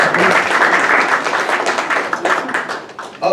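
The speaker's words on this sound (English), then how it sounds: "please give a round of applause for Dr." Audience clapping for a speaker at a Black History Month kickoff celebration, a dense burst of applause lasting a few seconds with crowd voices underneath.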